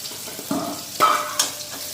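A paste of ground onion, green chilli and dried chilli powder fries in oil, a close, steady sizzle with a few bursts of louder hissing as it is stirred.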